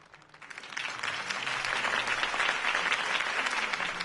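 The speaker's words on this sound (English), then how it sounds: "could have heard that applause" Steady applause from a large crowd in a Batman video game swells within the first second and holds at a loud, even level, with dense clapping throughout.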